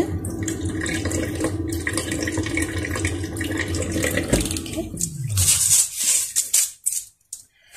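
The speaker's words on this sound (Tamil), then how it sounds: "நாலஞ்சு தரம் கழுவி கொள்ளுங்க அரிசியை." Rice is rinsed in water several times, with steady sloshing and pouring close by that thins out and breaks into brief splashes and drips near the end.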